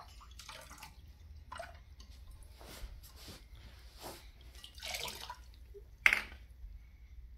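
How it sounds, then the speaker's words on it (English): A small toy being washed by hand under water, with intermittent splashes, drips and soft squishy rubbing in short bursts, fairly quiet and close, ending in a sharper splash. "Now I'm gonna wash this."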